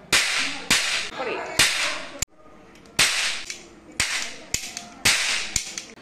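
A toy cap gun firing roll caps during a Diwali celebration, giving a series of sharp, loud cracks spaced roughly a second apart, close by, with no talk.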